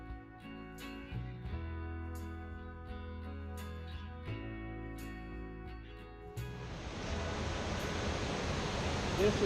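Linville Falls, a split waterfall in Linville Gorge, rushes as a broad steady roar that swells in the last few seconds, following a stretch of layered tonal music.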